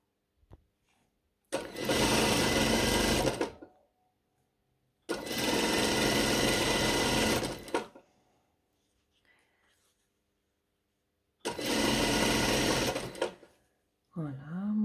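Sewing machine stitching the side seam of a long dress, running in three loud sustained bursts of two to three seconds each, with brief pauses between them and faint sounds in the gaps.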